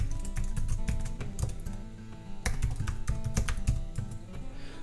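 Fingers type an email address and password on a computer keyboard, producing a steady run of close, crisp key taps with brief pauses and no talking.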